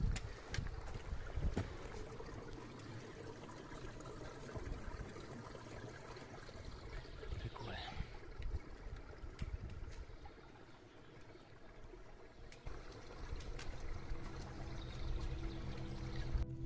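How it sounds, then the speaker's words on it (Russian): Water running beneath stones on a forest trail in the Carpathian mountains, a steady, close rushing and gurgling with a few knocks and scrapes over it, no voices. "Где-то под камнями ручьи бегут под землей"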